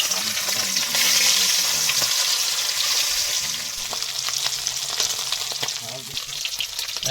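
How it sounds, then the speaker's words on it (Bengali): Fish frying in hot oil in a wok aboard a boat on a Sundarbans river, a steady loud sizzle with crackles and a few stirring scrapes, low chatter and background noise beneath. "কড়াইতে কিন্তু তেল দিয়ে দিয়েছে, এবার মাছ ভাজা হবে"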